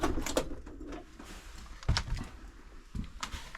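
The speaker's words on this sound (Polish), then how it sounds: "Drzwi zamknę." A door being closed inside an abandoned house, a sharp thump with a rattle near the middle amid scattered creaks and knocks in a quiet room, with no speech over it.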